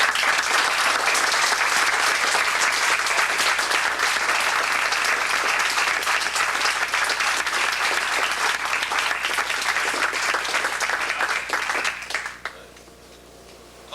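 An audience at a Goju-ryu karate black belt exam breaks into sustained loud applause for two candidates, dense clapping filling the room for about twelve seconds before it abruptly fades to quiet.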